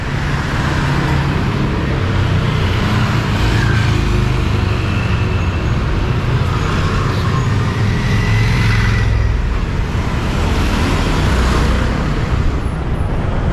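Steady car, bus and truck traffic on a busy Bangkok street, a continuous loud roadway rumble with passing engines close by and no talk.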